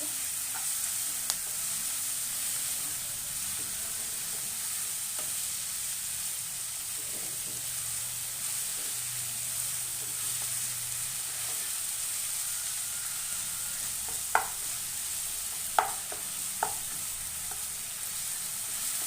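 Ginger garlic paste fries in a pan while cooking a hotel-style Bombay sagu side dish, giving a steady, soft sizzle throughout with a few brief utensil clicks near the end and no talking.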